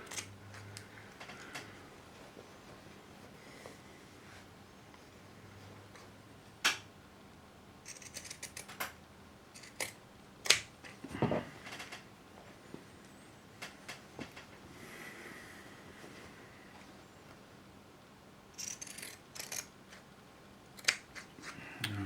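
Pinking shears snip along fabric edges of a zippered pouch sewn on a Bernina Record 830, a quiet scattered series of crisp cuts with pauses between them, heard alone without talking.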